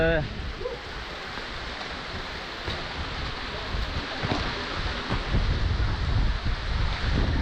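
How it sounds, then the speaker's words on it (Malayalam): Strong wind gusts across a hilltop viewpoint, a close, rumbling roar buffeting the microphone that swells toward the end, with voices faintly present underneath. "ഇവിടെ നല്ല കാറ്റിട്ടാ നല്ല കാറ്റുണ്ട്"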